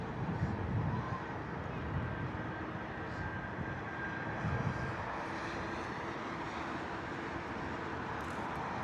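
A Singapore Airlines Airbus A380 roars on takeoff at Heathrow as a steady, distant low rumble of jet engines that holds evenly throughout.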